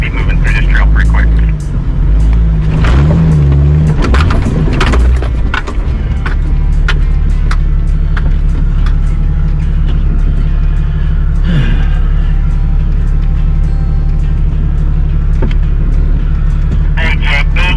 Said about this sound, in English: We're moving trucks through, so I mean, I think we're doing pretty good. We got a lot of Jeeps